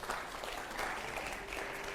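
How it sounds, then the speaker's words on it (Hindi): Faint, steady crowd applause at an Azad Samaj Party political event, a soft dense patter of many hands that holds evenly for about two seconds. "अगला सवाल के लिए जोरदार तालियां हो जरा।"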